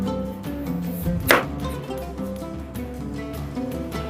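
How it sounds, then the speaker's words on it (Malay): A knife chops ingredients, including a Holland onion, on a board for a stovetop pan pizza, giving a quick series of knocks with one sharper clack partway through, close up and alone. "sementara tu kita potong-potong bahan apa yang patut"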